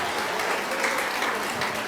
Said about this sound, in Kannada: ಒಂದು ಸರಿ ದೊಡ್ಡ ಚಪ್ಪಾಳೆ ಬರಲಿ ನಮ್ಮ ಮೆಬೆಲ್ ಕಿಡ್ಸ್ ಶಾಲೆಗೆ